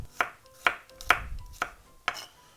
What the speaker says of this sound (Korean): 오늘 여기에 마늘 3개 넣습니다. 편썹니다.